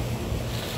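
Ocean surf at Waikiki crashes against a sea wall, a steady loud roar of churning water with wind noise on the microphone, continuous for the whole moment.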